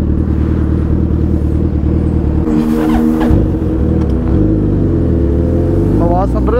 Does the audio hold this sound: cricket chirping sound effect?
no